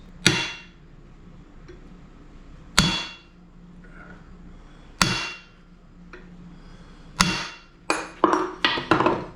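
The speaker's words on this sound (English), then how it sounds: "the way to remove those is to smack it with a hammer in several places" Sharp metallic hammer blows ring out against a 1966 Ford Mustang rear axle bearing, a few spaced strikes then a quick burst of several hits at the end, loud and close.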